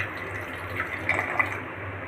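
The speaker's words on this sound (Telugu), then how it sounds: "ఇప్పుడు ఇంకొన్ని వాటర్ వేసి బాగా పచ్చివాసన పోయేదాకా ఫ్రై చేసుకుందామండి" Water poured into a pan of frying egg curry gravy makes a soft, continuous splashing and bubbling with a couple of brief sharper spatters near the end, moderately close and with no one talking.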